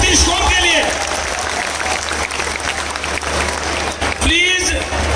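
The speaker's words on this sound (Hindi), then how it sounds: "एक बार जोरदार ताली बजाएं 36 कोम के लिए" Loud, sustained applause and cheering from a crowd of guests at a night bhajan evening in the Tejeshwar Mahadev temple in Bengaluru. A dense roar carries on throughout, with a brief surge near the end.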